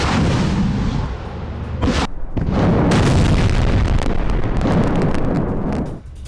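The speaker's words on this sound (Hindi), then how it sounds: "यूक्रेनी बेस पर भारी फायरिंग से मचे कोहराम की यह तस्वीर देखिए" Heavy gunfire and explosions erupt at a Ukrainian base in a loud, continuous rumbling barrage, with dense overlapping bursts and booms and a brief dip in the middle.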